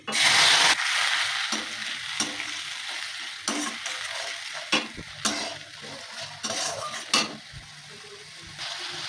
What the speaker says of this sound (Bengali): তেলে আমার একটু তেল দিয়ে দেব, এতে আমি কালো জিরে ফোড়ন দেবো।